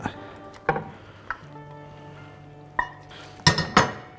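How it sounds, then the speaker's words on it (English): Cooked, drained pasta is mixed into a pan of sauce with a utensil, producing scattered clinks and knocks against the metal pan, quiet between strikes and loudest in a cluster near the end. "Next thing is to add the pasta that we cooked earlier on and drained. Mix that all in."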